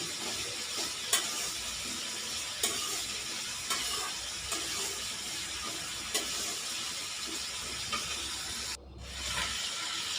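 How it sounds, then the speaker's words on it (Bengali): Meat and lentils frying side by side in hot oil, a continuous soft sizzle with occasional sharper crackles and faint stirring clicks, steady and close throughout. "মাংস ভাজতে দিয়ে আমি পাশে ডালটা ভেজে নিচ্ছি"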